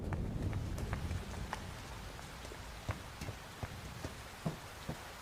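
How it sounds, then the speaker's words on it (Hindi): Rain falls steadily outdoors, a dense hiss with scattered sharper drops spattering at irregular moments, loud and close with no voices. "आ जाओ, बारिश आने वाली है, अंदर चलते हैं।"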